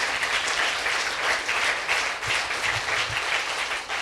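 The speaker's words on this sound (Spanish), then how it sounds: "Dele ese aplauso al Señor, hermano." Church congregation applauding during a worship service, a steady, dense wash of many hands clapping together that fills the whole stretch at an even level.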